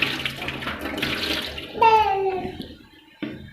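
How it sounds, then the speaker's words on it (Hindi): A bowl gets rinsed under running tap water after washing poppy seeds, with steady splashing and trickling, then a sharper gush and clatter near the sink before the flow fades. "बाउल को अच्छी तरह से धो लिया"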